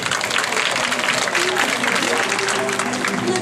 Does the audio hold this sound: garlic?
no